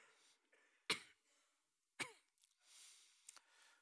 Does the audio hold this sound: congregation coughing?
yes